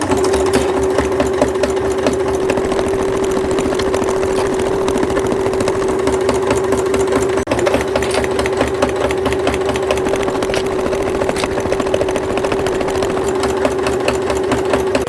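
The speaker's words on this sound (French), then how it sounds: "Nous allons attaquer la dernière surpiqûre et la capuche sera terminée." A sewing machine topstitching the hood of a child's rain cape, running in a fast, steady mechanical rattle with a constant hum throughout, close and loud with no pauses.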